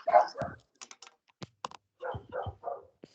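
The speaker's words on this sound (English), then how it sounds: "Mine keeps wanting to bark right below me." A white, fluffy pet dog barks indoors: a few short, sharp barks in quick bursts, moderately loud against an otherwise quiet room.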